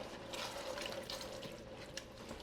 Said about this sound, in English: Now I'm going to put just a little water in here